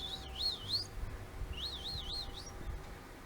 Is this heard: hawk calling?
yes